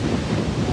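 Wind buffeting a microphone outdoors at night, a steady low roaring rumble that fills the short moment with no pauses and no voices.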